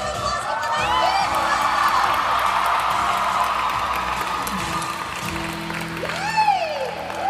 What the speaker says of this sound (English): Let's give our Outer Guardians a huge round of applause.